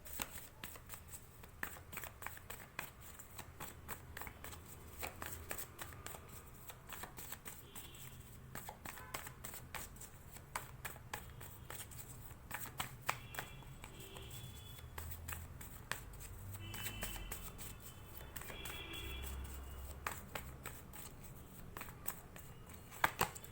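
Tarot cards are shuffled by hand in a long continuous run of soft riffling, slapping and sliding, close-up and fairly quiet, with brief louder flurries.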